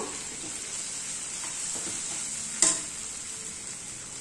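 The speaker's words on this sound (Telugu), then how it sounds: "ఒక హాఫ్ స్పూన్ పసుపు యాడ్ చేశానండి. కొద్దిగా ఫ్రై చేసుకుందాము." Potato frying with ginger garlic paste and turmeric sizzles steadily in a pan, with a soft stir and one sharper clink of a utensil partway through; no talking.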